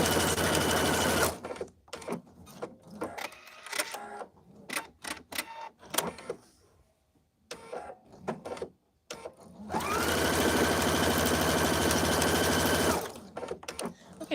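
A sewing machine stitches quilting lines on a zippered project bag in bursts of fast, steady mechanical whirring, broken by pauses, clicks and fabric handling, ending with a long continuous run.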